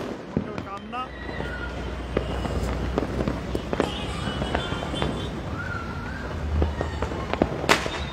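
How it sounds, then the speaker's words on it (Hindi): Firecrackers and fireworks burst in sharp, irregular pops across a town during Diwali celebrations in Una, some close and loud, others distant, over a constant crowd and street hubbub. "ये देखिए ये पटाखे किस तरीके से फोड़े जा रहे हैं"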